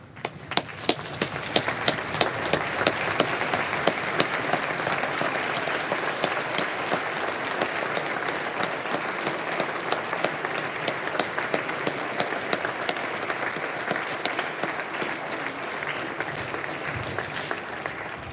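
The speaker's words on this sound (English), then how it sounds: "Please stand and join me in a round of applause to honor them." Standing crowd at a Veterans Day school assembly applauds local veterans, a dense sustained round of clapping that fills the room steadily for nearly twenty seconds before thinning slightly at the end.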